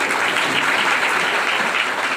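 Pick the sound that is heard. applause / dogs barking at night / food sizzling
applause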